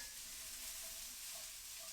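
Shrimp, broccoli and carrots sautéing in a pan, giving a steady, dense sizzle and hiss throughout with no voices.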